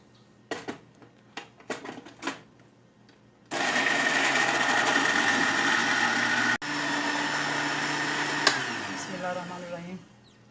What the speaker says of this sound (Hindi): अब इसको ब्लेंड करते हैं।